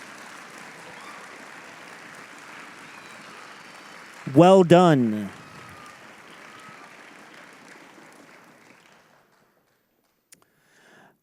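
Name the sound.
audience applause at orchestra celebration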